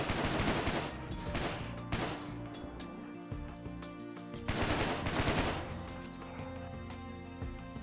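Rapid bursts of automatic gunfire from a colony-sim video game battle, loud and dense, with two heavy volleys separated by a sparser stretch of scattered shots.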